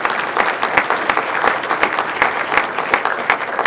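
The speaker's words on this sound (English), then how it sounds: "how about a round of applause for these candidates?" A forum audience claps for the candidates in a dense, steady round of applause from a crowd, filling the short moment without any talk.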